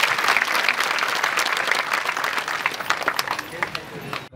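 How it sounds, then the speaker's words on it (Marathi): An audience at a small Swami Samarth centre gathering during Datta Jayanti week claps in sustained, loud applause to welcome a guest, with voices underneath, before tapering off. "टाळ्या वाजून त्यांचं सर्वांनी स्वागत करा"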